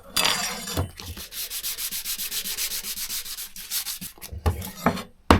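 An air rifle target being sanded by hand to key the surface for paint, quick back-and-forth rubbing strokes close up, with a few knocks and a sharp bump at the end.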